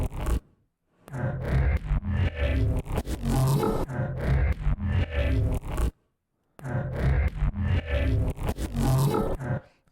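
A granulated bass synth patch from a Neurobass 3 masterclass roars in loud, gritty, dense bursts, broken by two short silent gaps.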